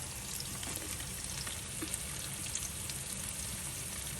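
Cabbage and bok choy fry in a pan with Creole seasoning, giving a steady, close, dense sizzle that holds evenly throughout with no voices.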